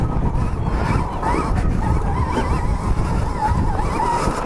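A Stark Varg electric dirt bike accelerates up a hill, its motor a wavering high whine riding over constant loud wind and tire roar, close and unbroken throughout.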